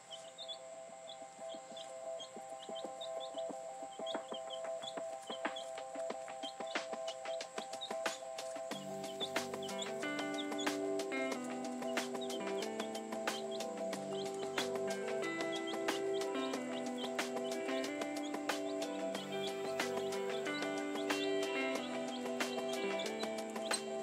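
Young chicks in a brooder at an off-grid tiny home cluck and peep steadily and close by, with sustained chirping throughout and a low, droning background tone entering partway through.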